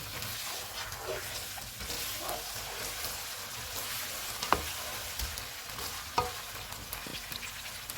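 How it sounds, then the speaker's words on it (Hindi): 500 grams of chicken fries over a full flame while it is browned for chicken chana dal, giving a steady, close sizzle throughout with a couple of brief sharp clicks and spatters. "चूल्हे को फुल रखेंगे और चिकन का कलर चेंज होने तक भूनेंगे।"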